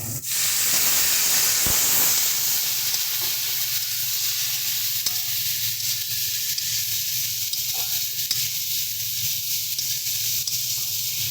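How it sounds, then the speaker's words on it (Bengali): Water poured into a pan of fried lentil vadi for a chholar shaak dish sets off a loud, steady sizzle and hiss that stays strong throughout, with a few faint utensil clicks and no talking. "তো চলো এবার এর মধ্যে একটু জল দিয়ে দিচ্ছি সামান্য পরিমাণে।"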